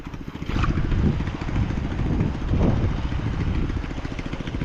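A hand tractor's motor chugs steadily while plowing a rice paddy, a loud, close, continuous low engine drone with a rapid rhythmic pulse, brief faint sounds above it.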